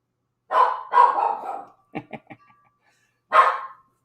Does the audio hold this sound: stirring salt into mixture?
no